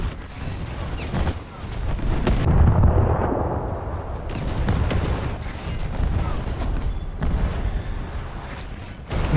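Heavy cruiser guns of a Des Moines fire in a naval video game, a string of deep rolling booms and blasts that overlap into a sustained rumble.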